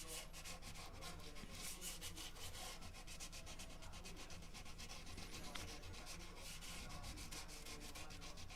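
Steady, continuous sanding rubs across the repaired wooden headstock of a broken Les Paul guitar, a close, even abrasive scratching with no pauses.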